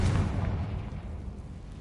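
A Confringo fire spell bursts in Hogwarts Legacy, one loud explosive boom at the start that rumbles and fades over a second or two, alone without talk.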